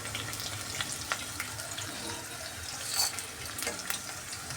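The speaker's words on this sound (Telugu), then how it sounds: "మినపప్పు, శనగపప్పు వేసుకొని బాగా ఫ్రై చేసుకున్నాము" Chopped onion, curry leaves, urad dal and chana dal fry in a pan for poha upma, making a soft, steady sizzle with a few light clinks of stirring, close and fairly quiet with no talk.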